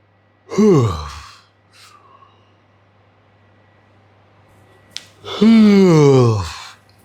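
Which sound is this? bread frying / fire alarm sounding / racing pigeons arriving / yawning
yawning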